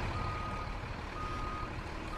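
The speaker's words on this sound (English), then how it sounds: "I had to look up the truck backing up sound on YouTube with my BrailleSense 6" Truck backing-up alarm played from YouTube on a BrailleSense 6 device, a steady repeating reverse beep over a dense, fairly quiet background hum, with no one talking.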